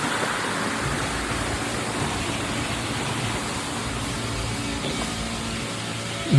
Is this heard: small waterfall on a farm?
yes